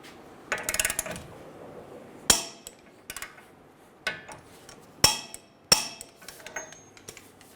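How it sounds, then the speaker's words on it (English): A wrench torques the axle nut on a 2011-2014 Hyundai Sonata during a front backing plate replacement, a few sharp metallic clanks and clicks spaced irregularly in an otherwise quiet workshop. "we're going to torque our axle nut to 188 foot-pounds"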